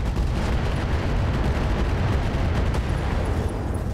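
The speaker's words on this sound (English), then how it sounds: "That's an ammo explosion." An ammo explosion in the mech combat video game RogueTech: a dense, continuous roar of blasts and rumbling detonations, loud and sustained without pause.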